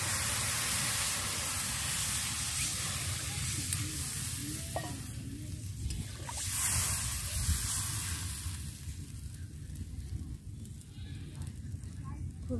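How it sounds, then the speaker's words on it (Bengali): Water poured into spice masala frying in a pan for a thin koi fish and potato curry, giving a loud steady sizzle that hisses and bubbles throughout, with a person talking over it. "এখন আমি জল ঢেলে দেবো।"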